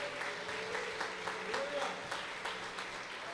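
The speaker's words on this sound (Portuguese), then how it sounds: "Pode aplaudir o Senhor nesta noite." A church congregation applauds during an evening sermon, with clapping that falls into a rhythmic pulse of sharp regular claps over a murmuring crowd and a sustained musical tone.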